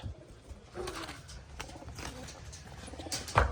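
Fancy pigeons coo softly at close range in low murmuring bursts, with a brief louder thump near the end.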